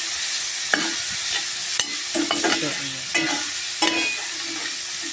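Garlic and tomato sizzle in a hot pan while a utensil scrapes and taps in quick irregular strokes, loud and close, with no talk.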